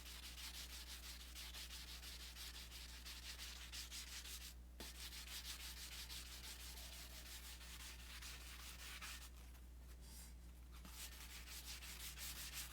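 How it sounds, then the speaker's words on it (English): Sandpaper rubs lightly around a tumbler cup held over a trash can, a steady, close scratchy swishing that runs continuously with brief pauses and shifts in stroke. "So I just take over my trash can and just lightly sand my cup all the way around."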